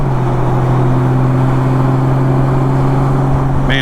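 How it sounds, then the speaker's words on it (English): Honda Goldwing motorcycle cruising on a hot city street in Memphis, a steady droning engine hum with constant road and wind noise, loud and close throughout, with a brief higher rattle right at the end. "So I'm just cruising on my Honda Goldwing, trying to keep my head on the swivel out here in the mean streets of Memphis"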